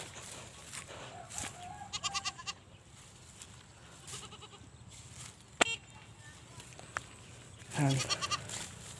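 Several goats bleat in short wavering calls, some near and some farther off, amid outdoor background noise and occasional clatter.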